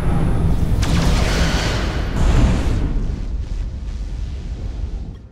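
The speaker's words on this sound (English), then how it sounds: "Fire photon torpedoes!" Photon torpedoes fired from a starship in the Star Trek Resurgence video game, a loud booming blast with a rushing roar that slowly fades out over several seconds.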